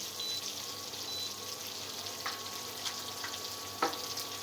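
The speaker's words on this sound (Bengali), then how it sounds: "মশমশ করে ভাজবো, এটা আস্তে আস্তে হোক" Fish frying slowly in a pan over low heat, a soft continuous sizzle with occasional small pops and crackles, close and fairly quiet, with no talking.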